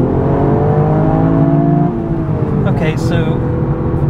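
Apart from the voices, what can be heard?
Toyota GR Yaris engine revving at 4,000 rpm in second gear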